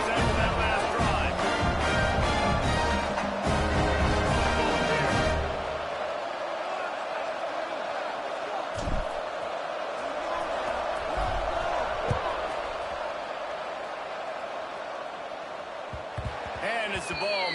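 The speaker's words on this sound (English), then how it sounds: "this crowd is feeling themselves after that last drive." Roaring stadium crowd in the College Football 26 video game, Syracuse versus Louisville, loud and sustained at first with band-like music, then settling into a steady cheering wash under a commentator's voice.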